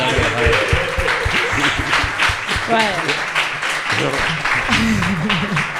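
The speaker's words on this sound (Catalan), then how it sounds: "Un aplaudiment per a Ximo" Studio audience of a Valencian comedy talk show applauds in scattered rhythmic claps while voices talk and laugh over it, fairly close and lively.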